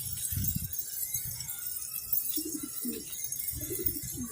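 Pigeons coo repeatedly in low, soft, throaty bursts, close by, with some faint background hiss.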